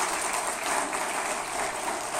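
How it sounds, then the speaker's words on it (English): A crowd at a political rally claps steadily in a dense, continuous wash of applause throughout the short stretch, with no talk over it. "You could give yourself a hand of applause"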